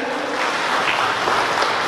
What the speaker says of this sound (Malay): Satu lagi tepukan